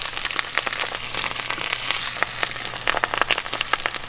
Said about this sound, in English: let's just drop it in 350 degree grease. I'm only gonna fry it for just a minute.